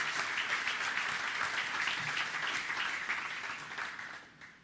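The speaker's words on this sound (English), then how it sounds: "And a round of applause for them as well." A room full of people at a township State of the Township event claps steadily for the staff, a dense sustained applause that tapers off toward the end.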